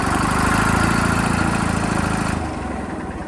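A Detroit Diesel 271 engine, restarted while hot, runs at a steady idle with a loud, dense low rumble and mechanical vibration, no voices present.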